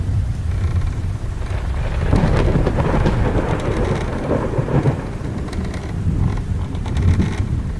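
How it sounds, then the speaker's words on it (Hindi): Heavy rain pours down across a forest during a thunderstorm, a loud, dense, unbroken hiss of downpour with deep thunder rumbling through it and swelling in the middle. "बारिश इतनी तेज थी कि पूरे जंगल में बारिश का पानी बहने लगा।"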